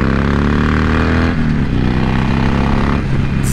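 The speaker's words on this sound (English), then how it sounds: "And this exhaust sounds nice." A 2020 Harley-Davidson Iron 1200 motorcycle exhaust rumbles and revs close by, a deep throaty growl that rises and dips, with no talking.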